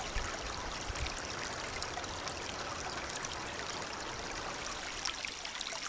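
Water trickling steadily through an MSR Trail Shot hand-pump filter into a hydration bladder outdoors, a continuous close splashing flow with small gurgles and no talking.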